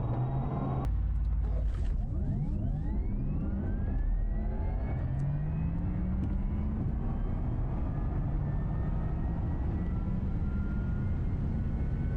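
A Porsche Taycan Turbo S, a fully electric car, accelerates hard, with rising whine harmonics sweeping upward over a steady loud rush of road and wind noise, preceded by a brief thump near the start; no talking.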